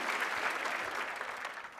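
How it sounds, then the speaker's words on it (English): An audience at a keynote talk applauds with dense, steady clapping, moderately faint and continuous, with no voices over it. "Big round of applause."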